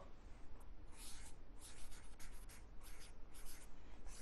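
Chalk or marker writing on a classroom board in short scratchy strokes, fairly faint and close, with no talk over it.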